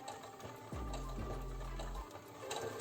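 A domestic sewing machine stitching forward a few stitches while sewing a straight seam on fabric, a steady close motor whir lasting just over a second between quieter moments, with no voices.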